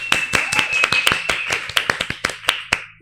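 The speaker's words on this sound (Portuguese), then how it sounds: "uma salva de palmas!" Audience applause at a podcast recording in a Brasília clinic, heard as sparse, distinct hand claps from a small group rather than a full ovation, close and crisp over a steady low background hum, with a faint tonal whistle underneath.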